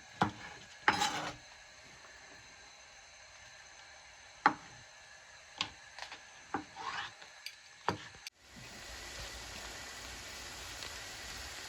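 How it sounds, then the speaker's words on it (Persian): Knife chopping eggplants on a cutting board for Persian kashk-e bademjan, a run of sharp, separate knocks at irregular intervals, close and fairly quiet, followed by a steady sizzle of onions frying in a pan. "تا زمانی که پیازامون سرخ میشه من این بادمجونا رو خوردش میکنم"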